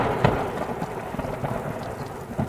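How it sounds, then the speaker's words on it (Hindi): Heavy rain pours steadily with low rumbles of thunder in an animated cartoon forest scene, a dense continuous hiss at moderate level with no voices. "दिन ढलकर रात हो जाती है, लेकिन बारिश लगातार होती रहती है।"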